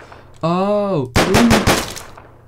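Rapid gunfire from the video game Deadbolt, a loud burst of closely spaced shots following a short electronic tone, with a voice briefly present.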